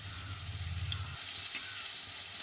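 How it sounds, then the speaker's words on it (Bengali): Potato and eggplant pieces fry in oil in a pan, giving a steady close hiss and sizzle with a low hum underneath during the first half. "ওপর থেকে আলু আর বেগুনটা একটু ভেজে নেব।"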